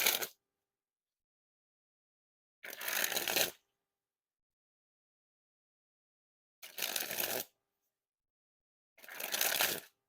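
Fulton's October playing cards sprung from hand to hand in four short, crisp riffling bursts separated by silence, close and clear.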